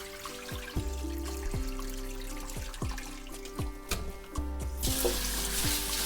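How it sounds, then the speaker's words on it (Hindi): Water splashes and drains from a bowl of soaking dal mixed with rajma and chana dal in a kitchen sink, with the tap running, repeated clunks and knocks of the vessel, and a louder rush of water near the end. "तो एक और बार पानी निकाल लूंगी इसका।"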